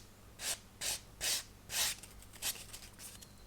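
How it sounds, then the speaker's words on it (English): A sanding sponge rounds off a nub on a plastic 1/200 scale ship model kit, giving four distinct close, raspy rubbing strokes in a steady rhythm, followed by a few softer, shorter scrapes. "because we're using a sponge, when I apply pressure, it's changing shape and it's rounding off the nub"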